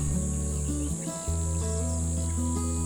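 Crickets and other insects in a forest keep up a continuous high-pitched shrill trill, layered over steady low sustained tones.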